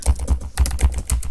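Rapid clattering keystrokes on a computer keyboard while code is entered, a quick uneven run of close, crisp clicks with no talking.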